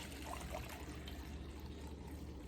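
Four cups of vinegar poured into a measuring cup holding sugar and spices for bread and butter pickles, a faint, steady trickling pour that continues without a break.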